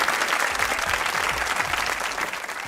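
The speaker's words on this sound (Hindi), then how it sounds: "भरपूर तालियों में बुलाने जा रहा हूं अनम तनवीर।" Dense, sustained studio audience applause fills the space as a guest, Pakistani actress Anam Tanveer, is welcomed onto a comedy talk show set, steady and loud throughout without a break.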